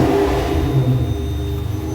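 A Lamborghini Murcielago with a gated manual gearbox revs while driving, a loud, close, continuous engine roar with a deep low growl that swells and wavers slightly over two seconds.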